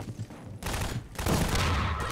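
Bursts of rapid gunfire from a firefight in the video game Half-Life 2 come in two dense volleys separated by a short lull, loud and continuous with no talking.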